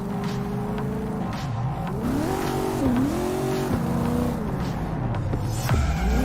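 A sports car drives and revs in Cyberpunk 2077, its engine rising and falling in pitch through repeated gear changes, loud and continuous with no speech.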